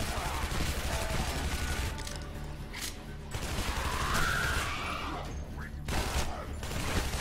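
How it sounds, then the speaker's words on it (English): Enemies blowing up in the Shadow Warrior video game, with a rapid barrage of blasts and crackling bursts over loud combat noise, plus a short rising whistle near the end and some talking. "They explode."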